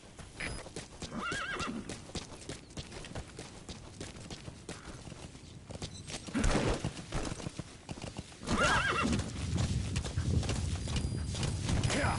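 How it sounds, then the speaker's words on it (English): A horse in the video game Metal Gear Solid V trots with rhythmic clip-clopping hooves, neighing loudly twice, near and clear over faint game ambience. "Use your horse."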